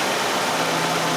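A Nissan Sentra engine with an EGR system malfunction idles roughly, a close, loud, steady mechanical hum and rumble with no talk over it.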